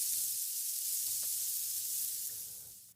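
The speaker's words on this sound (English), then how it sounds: "let's get sizzling" Steady sizzling hiss like food frying in a hot pan, continuous and fairly close for a few seconds, fading slightly at the end with no talking.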